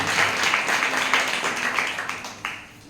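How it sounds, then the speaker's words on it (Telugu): A congregation claps through a church worship service, with dense rhythmic hand-clapping that starts loud and continues steadily before thinning out and fading near the end. "చప్పట్లు కొట్టి"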